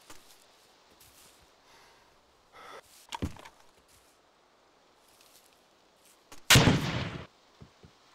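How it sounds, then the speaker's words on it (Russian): A distant explosion in the military game ArmA 2 with the ACE mod goes off behind barracks, a loud broadband boom late in the clip after an earlier shorter blast, with faint rustling between. "За казармами взрыв, за казармами взрыв"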